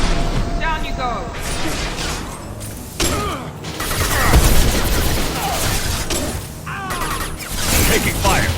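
Gunfire in the video game Mass Effect 2, loud sustained bursts and crashing impacts through a firefight, with shouted voices cutting in over the shooting.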